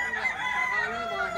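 A rooster crows loudly and close at a chicken market, a single sustained call over background market noise.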